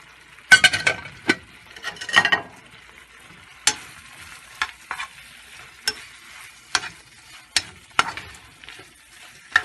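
Spices frying in a pan for shrimp biryani, stirred with sharp scraping strokes over a steady close sizzle; several clustered stirs early, then regular single scrapes every second or so.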